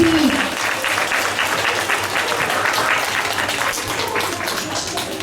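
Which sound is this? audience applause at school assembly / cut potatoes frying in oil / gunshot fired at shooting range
audience applause at school assembly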